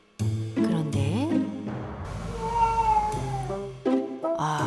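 A cat cries at its sleeping owners at night indoors with several close, drawn-out meows, some rising and wavering, separated by short pauses.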